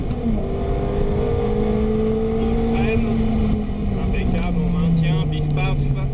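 A Ferrari F430 engine accelerates hard on a track, its rising and shifting whine loud and close, with an instructor speaking over it.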